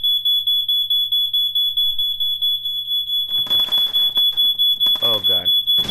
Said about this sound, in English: smoke detector is a bit screwy.